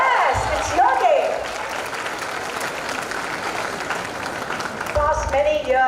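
Women in the audience at an International Women's Day celebration break into loud, sustained applause mixed with cheering, filling the room for several seconds while a voice speaks at the start and end.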